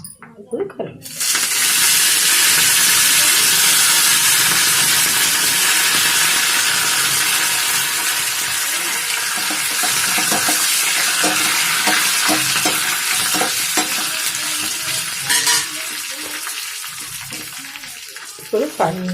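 Curry leaves hit hot oil for a rasam tempering and burst into a loud, sudden sizzle that stays strong and slowly eases, with stirring clicks and someone talking faintly over it.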